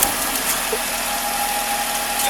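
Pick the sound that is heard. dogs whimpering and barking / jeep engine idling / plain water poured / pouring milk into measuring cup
jeep engine idling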